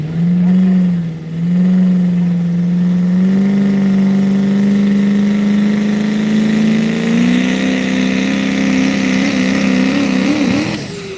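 Pro Street diesel drag truck revving loudly and close, a steady droning engine tone that climbs gradually in pitch as it builds, sustained for the whole stretch with no voices.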